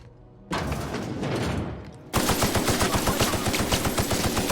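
Rapid automatic gunfire in The Outer Worlds video game: a loud burst of noise gives way to a fast, steady string of close, evenly spaced shots that continues to the end.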